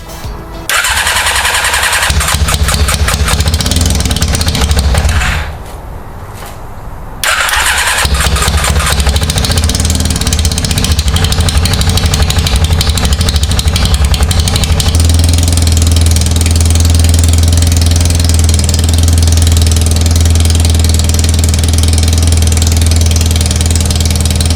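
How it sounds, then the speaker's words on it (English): A dune buggy's motorcycle engine cranks and catches, cuts out briefly, then fires again and settles into a loud, steady idle. "So let's go try to start the motorcycle."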